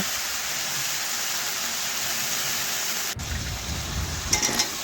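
Fried potatoes tipped into a spice paste sizzle steadily in hot oil while cooking rui fish curry, a dense hiss running throughout with a brief clatter near the end.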